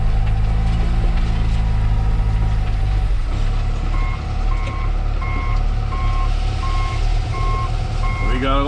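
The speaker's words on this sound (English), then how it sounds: "Loading these triaxle trucks up." Tri-axle dump truck backing up at a rock loading site, its reversing alarm beeping in a steady, evenly spaced series over a loud, rumbling diesel engine and heavy machinery drone.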